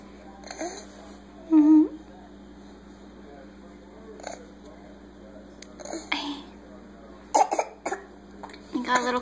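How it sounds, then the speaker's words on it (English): A baby coughs a few times in a quiet room at home, the small coughs scattered among soft vocal sounds while an adult speaks gently nearby. "You got a little cough?"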